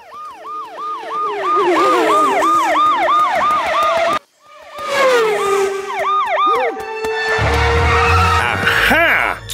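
A voice mimics a police car siren in a cartoon, loud rising and falling wails repeated rapidly close to the listener, breaking off briefly midway before resuming.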